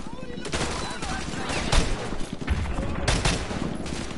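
Heavy automatic gunfire rattles in dense, continuous bursts during a Call of Duty: Modern Warfare 2 firefight near a school, with sharper louder volleys standing out, under faint speech.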